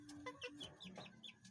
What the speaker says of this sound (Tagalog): dito na nakulong na natin yung mga manok